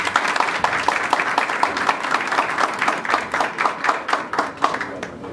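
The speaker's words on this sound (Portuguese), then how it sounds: "eu peço mais uma salva de palmas calorosa para o nosso palestrante." An audience at a lecture gives the speaker a round of applause, a few individual hands clapping in a quick, fairly even rhythm that sounds moderately close and lasts several seconds.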